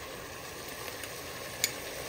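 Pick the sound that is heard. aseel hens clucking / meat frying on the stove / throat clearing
meat frying on the stove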